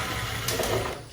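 Power driver fitted with a T20 bit spinning screws out of a lighting board on a ZL1 Camaro, a steady close-up motor whine running the whole moment with a slight rise midway.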